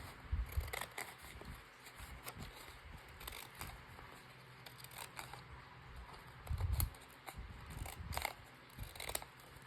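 Decorative ripple-edged scissors cut a wavy edge along a paper page for a handmade travel journal: quiet, close snips and crisp paper rustles in short bursts, with two heavier crunching cuts.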